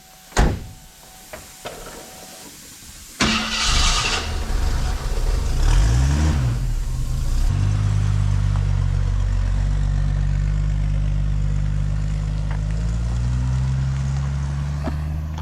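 A 1974 AMC Hornet sedan with a regeared Ford 8.8 rear axle pulls away after door and cabin clunks, its engine settling into a steady, fairly loud drone with a faint whine riding on top.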